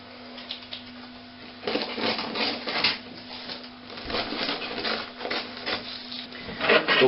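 A knife cuts through pastry dough for a Normandy apple tart in a small dish, a soft scraping and rasping that goes on unevenly, quiet and close, with firmer strokes every second or so.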